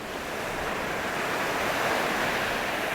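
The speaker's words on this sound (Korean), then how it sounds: "파도에 싹 쓸려가는 소리가 들리는 것 같은데요" Rough winter surf pounds a sandy beach on the Gangneung coast, a loud and continuous roar of breaking waves mixed with wind noise that swells slightly toward the middle.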